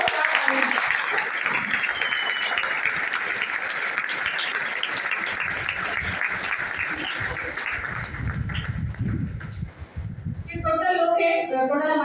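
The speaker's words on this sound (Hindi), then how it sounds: "मैं चाहूंगी इन लोगों के लिए एक बार दिल से जोरदार तालियां" Hearty, sustained applause from a crowd at a business plan meeting honouring the product team, loud and dense throughout, with voices rising over it toward the end.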